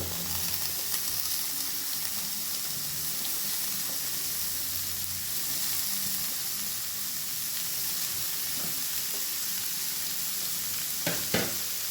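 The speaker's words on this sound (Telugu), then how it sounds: "సో ఇప్పుడైతే దీన్ని అంతా బాగా కలిపేసుకోవాలండి మంచిగా సొరకాయ ముక్కలకైతే పసుపు అనేది బాగా పట్టేసేలా బాగా కలుపుకోవాలి" Bottle gourd pieces sizzling in a pan with turmeric as they are stirred, a constant close frying hiss with scraping of the spoon and a couple of sharp clicks near the end, no voices.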